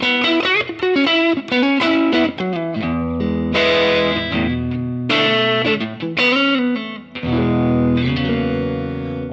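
An electric guitar plays through a Fractal amp model of a Fender Blues Junior with only reverb on, a sequence of bright, sustained notes and chords with a lingering ambient tail, loud and close.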